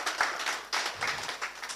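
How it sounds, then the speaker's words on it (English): An audience applauds a panel of distinguished professionals at a discussion event, a steady wash of many hands clapping at moderate volume with a few swells in intensity. "please, another round of applause to these distinguished professionals"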